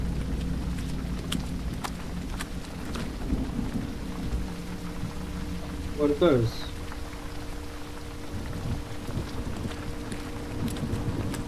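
Steady night rain with a low rumbling undertone in the indie horror game Silent Nights, continuous and moderately loud, while a voice speaks briefly over it.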